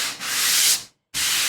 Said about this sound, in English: So anytime you're sanding, unless you want to arch when you're sanding, you want to keep a nice straight line.